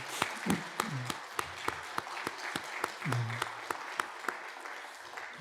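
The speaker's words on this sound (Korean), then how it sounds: "우리 박수로 한번 축복하면 어떨까요?" A church congregation at a Sunday service claps for newlyweds: sparse, spaced claps in a loose, fairly regular rhythm, with a voice speaking intermittently beneath them.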